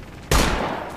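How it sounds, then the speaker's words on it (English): A sudden loud burst of gunfire in the video game Operation Flashpoint: Dragon Rising, cracking in at once after a quiet moment and ringing on with a dense, rolling tail of reverberating shots. "Shots fired."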